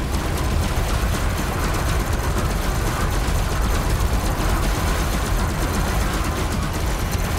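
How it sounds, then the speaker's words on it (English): Ship lasers firing during combat in the space game Elite Dangerous, a loud, continuous buzzing stream of rapid fire that holds steady and alone for the whole stretch. "So now I can actually effectively use my lasers"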